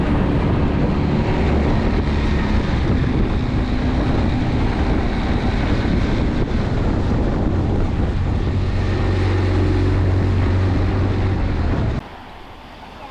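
A Tohatsu 20hp EFI outboard motor drives a 12-foot aluminum tinny at speed. It makes a loud, steady engine drone under heavy wind buffeting and water rush, then drops abruptly to a quieter level near the end.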